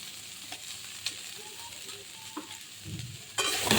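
Potatoes with ground cumin and chilli paste are stirred in a pan, giving soft intermittent scrapes and light clinks over a low simmering sizzle, then a louder burst of frying noise at the close.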